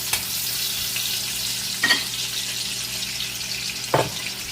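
Onions and garlic sizzle steadily in a hot pan for chop suey, a constant frying hiss broken by two or three brief scraping stirs.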